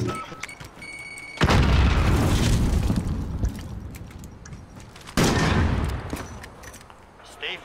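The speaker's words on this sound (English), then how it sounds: "Bomb set. Hold for detonation." A bomb detonates in a Call of Duty Modern Warfare Search and Destroy match, giving a heavy, roaring blast that sustains and rumbles, then a second big booming burst a few seconds later, both loud and close.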